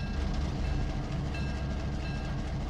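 A video-game locomotive rumbles steadily along the track, a dense low roar with faint rhythmic clatter, no voices.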